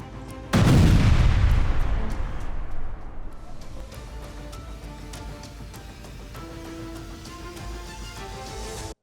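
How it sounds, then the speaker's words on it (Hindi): A box of firecrackers explodes in one loud, sharp blast with a deep boom that decays slowly into a crackling, ringing tail, heard outdoors with no voices. "पटाखा फटने से गई युवक की जान।"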